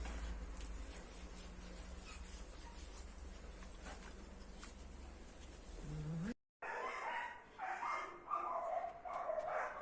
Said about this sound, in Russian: собаки разорались